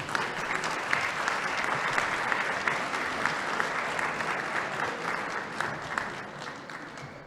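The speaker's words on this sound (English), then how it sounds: "Let's give them all a big round of applause." Crowd applause at a high school senior class scholarship and award ceremony, a steady round of clapping from an audience that tapers slightly toward the end.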